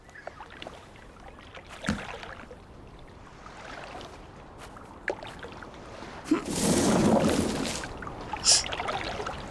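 Rowing a small boat in the video game Draugen: faint watery splashes and oar strokes over a quiet ambient bed, building to a louder sustained surge of rushing water midway, with a few sharper knocks.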